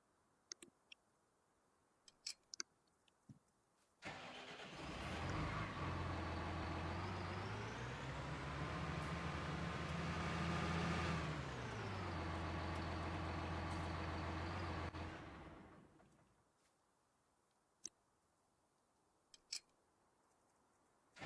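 A tractor engine in Farming Simulator starts up, revs and rises in pitch, holds a steady loud drone for about ten seconds, then dies away, with scattered faint clicks before and after.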